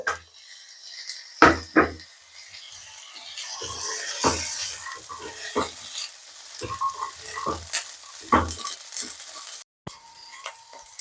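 Potatoes and broad beans fry in a pan with a low, steady sizzle, broken by occasional sharp scrapes and knocks of a spatula against the pan, close and without speech.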